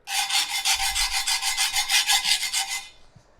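A screwdriver scraped hard across a very hard porcelain paver: a loud, harsh rasping in quick repeated strokes, about a dozen in steady rhythm, close up, then stopping.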